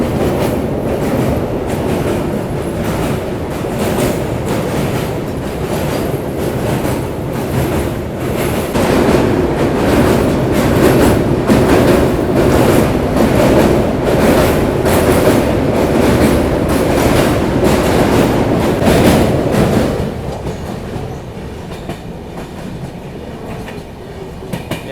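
Trains running in parallel across a bridge on the Poorvottar Sampark Kranti journey from Delhi to Guwahati, a loud, continuous rumble with rhythmic clickety-clack of wheels that eases off near the end, no voices.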